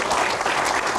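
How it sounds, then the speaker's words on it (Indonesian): A brief burst of audience applause at a Q&A event, dense and fairly loud clapping filling the whole second. "Tepuk tangan dulu."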